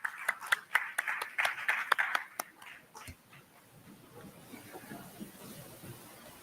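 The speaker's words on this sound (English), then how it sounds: "A big round of applause." Applause from an audience at an HR conclave at a university, sharp claps for about two seconds then thinning into scattered, fading claps and room murmur.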